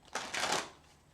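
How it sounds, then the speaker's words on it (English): A short riffle of tarot cards being shuffled by hand, a quick papery flutter in two close bursts that fades within a second, fairly quiet and with no talk. "Let me shuffle one more time."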